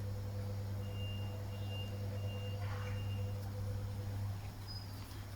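A dump truck's reversing alarm beeps steadily at a distance beneath a heavy, constant engine rumble and outdoor hum, the tone faint but persistent through most of the stretch.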